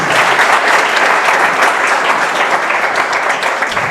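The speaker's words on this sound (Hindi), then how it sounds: "एक बार जोर ताली हो जाए संचिता के लिए" Students in an NDA exam preparation class clap loudly for Sanchita in a sustained, dense burst of applause that stays strong throughout.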